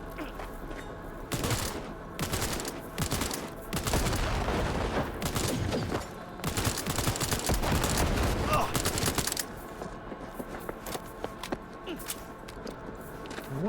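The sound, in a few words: gunfire in the video game Cyberpunk 2077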